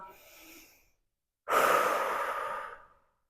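A single deep breath taken with arms opened wide during a post-workout stretching routine: a long, audible inhale-exhale, close and clear, following a softer breath.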